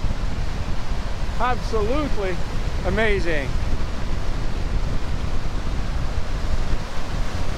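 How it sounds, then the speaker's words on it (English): Strong, howling wind sweeps across a lake on a cold morning, a steady roaring rush buffeting the microphone from start to end, with a person briefly speaking over it near the beginning. "Howling winds, cold, cold temperatures."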